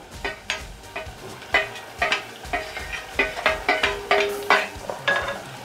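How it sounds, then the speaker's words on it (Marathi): Potato and tomato being sautéed for moong dal khichdi, a spoon repeatedly stirring and scraping the pan in a steady rhythm with soft sizzling underneath, close and moderately loud, no talking. "चांगला परतून घेतोय"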